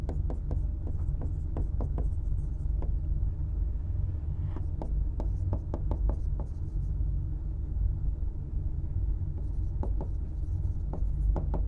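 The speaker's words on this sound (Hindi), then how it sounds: "तो यहाँ पे मैं इसी लैंग्वेज में लिख देता हूँ।" Handwriting on a surface makes a series of quick, close pen strokes and taps in short bursts over a steady low room hum, with no one talking.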